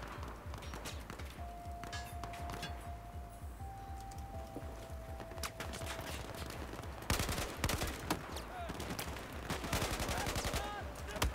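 Rapid gunfire in the video game Battlefield 4, with bursts of automatic shots in a fast steady rhythm, growing louder and denser toward the end, alongside a brief electronic tone.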